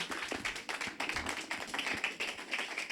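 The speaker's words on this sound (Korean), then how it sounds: "우리 박수로 환영하도록 하겠습니다" A church congregation claps to welcome the pastor at a revival service for the weak, with faint, even, distant-sounding clapping that holds steady for three seconds.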